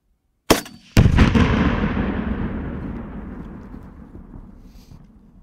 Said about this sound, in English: this is going to be a pretty big boom